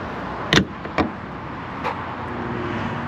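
The front storage panel of a 2021 Chevrolet Corvette Stingray being shut by hand, two close, solid thumps in quick succession followed by a fainter third knock, then quiet ambience.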